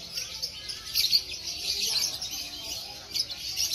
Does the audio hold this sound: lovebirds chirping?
yes